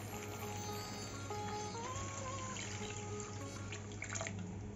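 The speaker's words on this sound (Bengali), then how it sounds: "এখন একটু জল দিয়ে দেব।" Water pouring into a pan of spice-fried katla fish curry, a continuous close rush of liquid over a low steady hum.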